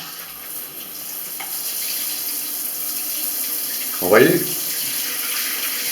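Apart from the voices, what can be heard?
water running from a shower head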